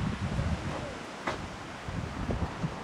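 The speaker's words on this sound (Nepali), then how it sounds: "हावा कस्तो चलेको यार" Strong outdoor wind roars steadily in broadband gusts that buffet the microphone, with faint rustling mixed in, filling the whole stretch without pause.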